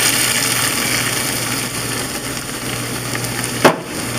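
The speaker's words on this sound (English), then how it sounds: "we're melting a little pat of butter down, about a teaspoon of butter, and in goes our shallots" Shallots sauté in a teaspoon of melted butter in a pan that was used to sear pork loin. A soft, even sizzle runs throughout, and a brief knock sounds near the end.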